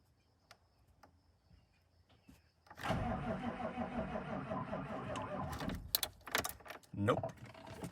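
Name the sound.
used truck engine starting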